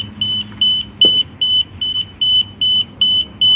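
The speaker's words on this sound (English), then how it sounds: "Why are you beeping?" A DJI Spark drone beeps repeatedly in a steady, evenly spaced pattern of short high-pitched tones, close and clear over a faint low background hum.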